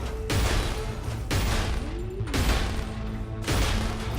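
Weapon fire in the video game Cryptark: several loud, punchy bursts spaced about a second apart, each with a sharp attack and a decaying tail, with no voices.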